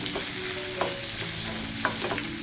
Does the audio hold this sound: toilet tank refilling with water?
no